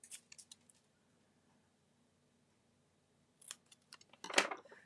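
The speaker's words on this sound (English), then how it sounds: "So I'm going to take my snips and I'm going to make a flag on the end here." Metal snips cut patterned paper for a card, giving a quick run of crisp snipping clicks, then a pause, then another cluster of close, sharp cuts ending in one louder snip.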